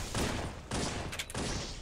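Dense, sustained automatic gunfire from two weapons fired at once in Halo 3 multiplayer, loud and continuous with two short pauses, no voices.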